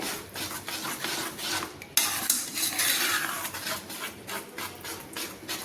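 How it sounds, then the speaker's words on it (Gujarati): A spoon scrapes and stirs through a thick mohanthal mixture of roasted gram flour blended with sugar syrup in a pan off the heat, giving continuous close scraping and clinking with a brief louder knock partway through, no talk. "આવી રીતે હલાવીશું એટલે મિશ્રણ ઘટ્ટ થતું જશે"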